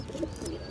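A healthy breeder pigeon, a red bar Jansen bird, gives a soft, low coo, faint and brief and close by.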